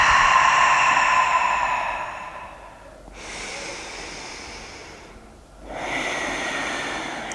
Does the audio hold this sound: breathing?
yes